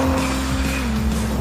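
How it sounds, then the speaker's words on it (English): Vauxhall Vectra engine driving on the road, a steady continuous hum with a low engine drone and some tyre noise, close and fairly loud throughout with no talking. "the mighty Vauxhall Vectra engine is working well"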